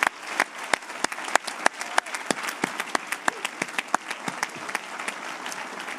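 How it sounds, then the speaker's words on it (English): Commencement audience at Northfield Mount Hermon breaks into sustained applause, a dense wash of many hands clapping with sharp individual claps standing out throughout, steady and fairly loud. "Let's give them a round of applause."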